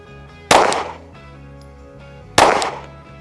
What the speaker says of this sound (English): I'll put a couple, two more 9mm shots on the right side of it if I can.